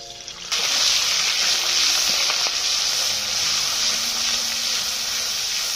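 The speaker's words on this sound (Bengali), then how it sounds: "তেল গরম হয়ে গেছে, এক এক করে মশলাগুলো দিয়ে দেবো। প্রথম পেঁয়াজ বাটা দেবো" Onion paste hits hot oil in a wok with a sudden burst of loud, steady sizzling that fills the whole stretch after a brief quiet start, part of cooking a spiced potato dish.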